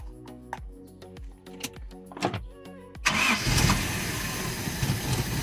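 A Toyota Hi-Ace van's 1RZ engine, running on a carburetor with a misfiring cylinder, cranks with a series of starter whirs and clicks, then catches and runs loudly with a rough, steady roar close by.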